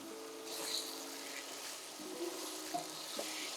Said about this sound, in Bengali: চিকেনটাকে খুব ভালো করে ভেজে নিতে হবে